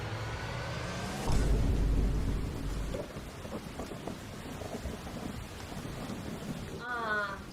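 Rain falls steadily near a house yard while a heavy roll of thunder booms loudly for about two seconds, then fades into a softer patter of rain. Faint voices come in near the end.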